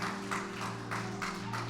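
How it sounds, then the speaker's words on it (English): A group at a Vacation Bible School session claps in steady unison for a volunteer, producing evenly spaced, moderately loud beats about three per second over a low electrical hum. "Clap your hand for Munpi, please."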